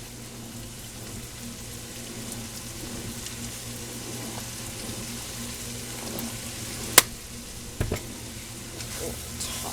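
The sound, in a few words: egg roll filling with soy sauce tossed in a pan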